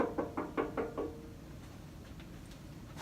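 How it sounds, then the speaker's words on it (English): About five quick knocks on a door in an even rhythm, close and clear, followed by quiet room tone. "We would knock on the door."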